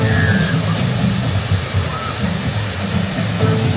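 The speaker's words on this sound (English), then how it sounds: "And the waterfalls are on." Waterfalls on the Alton Towers rapids ride pour as a loud, continuous broadband rush of falling water with no break.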